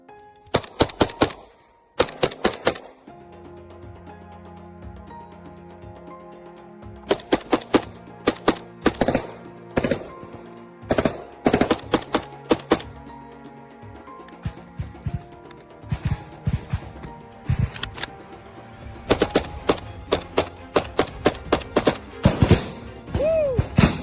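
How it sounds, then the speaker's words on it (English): Close-range gunfire in Bakhmut trenches cracks in loud, sharp bursts and volleys, some rapid like automatic fire, separated by short pauses across the whole stretch. "Ukrainians repulsed the attack of the enemy with a shooting battle and a lot of adrenaline"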